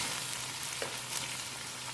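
Boiled black chickpeas frying in oil and being stirred for pulao, a continuous close hiss of sizzling with a faint scrape of stirring, quiet and without any talking.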